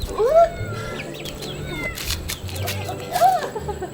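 A cat meows twice, clear and close, with faint rustling and background noise in between.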